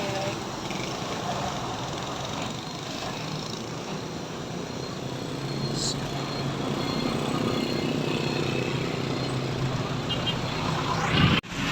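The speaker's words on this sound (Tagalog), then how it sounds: "Grabe ka traffic dire guys sa Tauswagan Road." Heavy road traffic on Tauswagan Road in Cagayan de Oro City rumbles as a steady, continuous engine drone that swells slightly over time, with a brief louder passing noise near the end.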